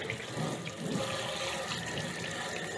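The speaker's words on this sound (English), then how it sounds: "Go ahead and get this thing washed out." Water rushes steadily while a furnace housing is washed out during a no-heat service call, a continuous close, full splashing spray that holds without a break.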